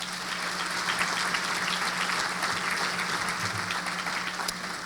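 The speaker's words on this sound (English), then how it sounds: "please have a round of applause for all of our sponsors" A breakfast audience claps for the event sponsors, a dense and even wash of applause that holds steady for the whole stretch, with a faint hum underneath.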